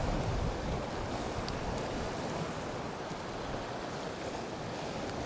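Strong wind roars steadily across the microphone, a dense, rumbling rush of air with no pauses and no voices.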